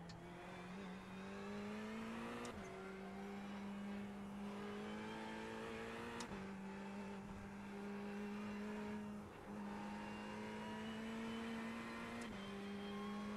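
Ferrari 488 EVO race car in a racing video game, a loud, steady engine drone that climbs in pitch through the gears, with three sharp upshifts and a brief lift, heard alone.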